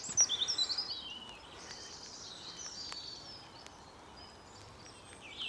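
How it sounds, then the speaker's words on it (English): Faint birds chirp and twitter in the distance over a quiet winter woodland hush on the North Norfolk coast, with a brief burst of calls near the start. "Can hear a bit of bird activity."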